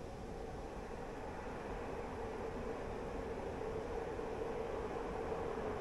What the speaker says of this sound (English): I can hear another train coming from the other side.